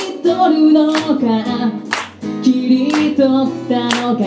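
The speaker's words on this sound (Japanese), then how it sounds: "よかったら手拍子お願いします。" Audience clapping a steady beat in time with a live pop song at a concert, sharp rhythmic claps over a singer and band, loud and close.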